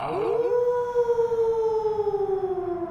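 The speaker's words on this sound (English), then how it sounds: "Someone howled back." An answering howl in a storybook read-along: a long, wavering, siren-like tone that rises quickly, then holds and slowly falls, clear over a soft low background with no speech.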